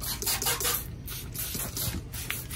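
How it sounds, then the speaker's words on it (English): Degreaser hisses steadily from a spray can as it is sprayed across a car engine bay, a continuous airy spray with brief pulses, close up and with no talking. "we're just gonna spray it everywhere you see green at"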